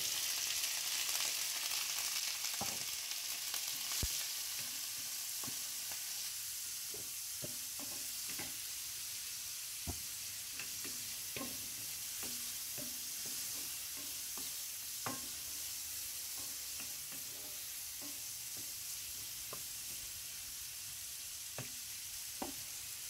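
Shrimp stir-fried with golden brown garlic for shrimp fried rice, a steady hissing sizzle under repeated sharp taps and scrapes of a spatula against the pan, close and without talk.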